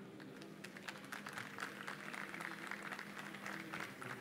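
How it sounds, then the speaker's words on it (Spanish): A conference audience applauds after a talk at an industry stage session, dense and fairly steady clapping heard from a distance, quiet overall with a low hum underneath. "Realmente este aplauso es muy bien merecido."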